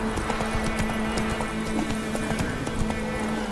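Geralt's horse Roach gallops in The Witcher 3, hooves clip-clopping in a fast, steady rhythm close by, layered over a constant low game ambience with no talking.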